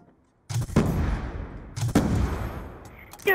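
Gunfire from a sharpshooter weapon in a video game shooter comes in two loud, close bursts of rapid shots after a quiet start, with another shot beginning at the very end.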